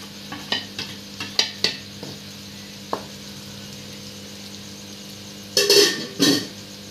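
A spoon stirs paneer and eggs in a frying pan, scraping and clinking against the metal in several short bursts over a low sizzle, with two louder scrapes near the end.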